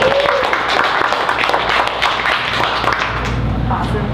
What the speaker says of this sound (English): Another round of applause for Professor Stephanie.